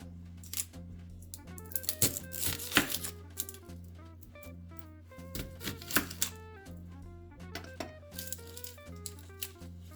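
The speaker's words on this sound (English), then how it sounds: "I'm going to start by slicing these thinly in, I guess, half moons" A knife slicing a small to medium onion thinly into half moons gives quick, irregular crisp taps and cuts, close and distinct, layered over steady background music.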